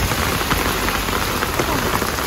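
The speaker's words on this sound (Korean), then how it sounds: "엄마가 데리러 오셔서 집으로 가고 있는데 우박이 옵니다." Hail pours down outdoors during a drive home, a dense, steady patter of close impacts that continues without a break and with no voices.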